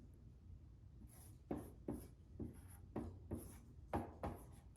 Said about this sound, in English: I will go ahead and write our practice problems on this board at the same time.